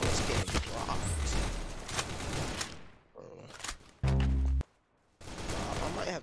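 Rapid gunfire bursts in the Roblox shooter Arsenal, dense clattering shots that stop abruptly, then a sharp synthetic tone and a brief pause before the firing resumes.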